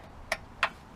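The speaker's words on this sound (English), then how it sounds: "that is the ratcheting of the starter, so that way it winds itself so you can pull it" Ratcheting recoil starter of a 1965 Lawnboy C-19 commercial bricktop mower, heard as two sharp, close clicks about a third of a second apart in a quiet setting.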